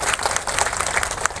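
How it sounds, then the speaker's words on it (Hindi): An audience of women at a rural village fair's closing ceremony claps vigorously to welcome guests, a close, lively burst of many hands with uneven, crackling peaks. "जोरदार तालियां बजा के अतिथियों का स्वागत करें"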